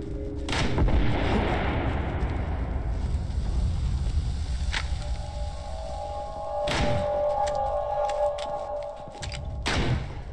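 Gunfire in the zombie game Into the Dead 2: a heavy first blast followed by several sharp shots spaced a few seconds apart, loud and close over a constant low ambient rumble.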